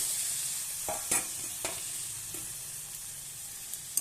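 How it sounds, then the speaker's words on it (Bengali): Drumstick stalks and pointed gourd are stirred and fried in a pan, a low steady sizzle broken by a few sharp spatula scrapes and taps, close and quiet. "এবার আমি সবজিটা দিয়ে দেবো, ডাঁটা আর পটল"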